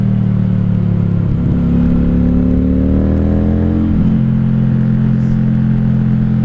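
A 1995 Honda Shadow VLX 600 motorcycle engine runs steadily close by while riding, its low throb rising in pitch through a brief rev around the middle before settling back to a constant drone.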